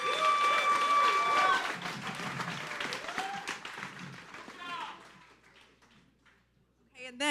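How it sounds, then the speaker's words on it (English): Audience applause at a festival event hall welcoming a CEO and co-founder on stage, clapping and crowd noise under a speaking voice that taper off into quiet, followed by a sudden burst at the end. "A big round of applause for Bill."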